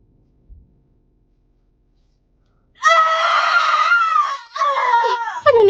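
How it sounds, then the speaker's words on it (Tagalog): A woman in an audio drama lets out a loud, sustained scream that starts abruptly after near silence, breaks off briefly, then resumes with shrill wavering cries. "bigla niyang marinig ang malakas na sigaw ni Alona"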